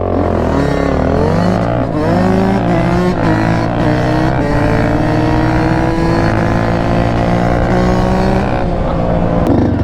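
A 500 quad ATV engine revving loudly and close by, its pitch repeatedly climbing and dropping as the throttle is blipped over about ten seconds.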